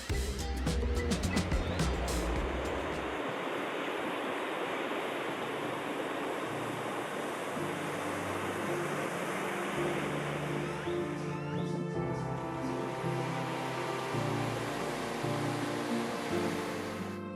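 Ocean waves wash steadily onto a Pacific beach in Mexico, a continuous broad roar of surf with gentle swells in intensity, heard close and alone without voices.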